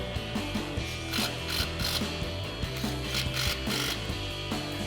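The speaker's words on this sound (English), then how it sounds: "Grab our 13 mil socket and tighten these down." A ratchet with a 13 mm socket tightening brake hardware on a 2021-2025 Ford F-150 during a brake rotor installation: rapid, close clicking of the pawl in repeated short bursts over a steady background hum.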